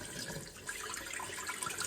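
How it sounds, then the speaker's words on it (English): Water runs steadily from the hot and cold taps of a repaired dripping faucet, a continuous close hiss with no talking. "Open the cold, open the hot."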